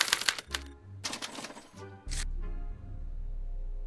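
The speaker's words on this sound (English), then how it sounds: "they're relayed to this special typewriter, which prints out a punch card that represents the subject's mind map" A special typewriter in the Back to the Future video game hammers out a punch card: bursts of rapid mechanical key strikes and clacks broken by short pauses, ending in a low steady whir, close and clear.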